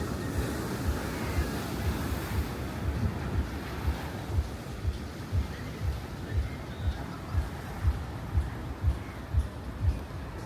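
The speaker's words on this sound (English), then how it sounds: "Alright, I've made it down to the beach." Waves rolling onto a beach in Goa, heard as a constant roar of surf with heavy wind buffeting the microphone and low rhythmic thumps, close and fairly loud.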